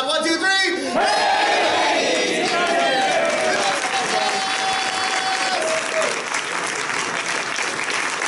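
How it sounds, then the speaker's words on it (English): A loud live comedy-improv audience at a fan convention cheers and shouts together in one burst, then keeps up sustained applause with scattered whoops for several seconds. "on the count of 3, let's say, hey, ladies, get in here and give us some applause"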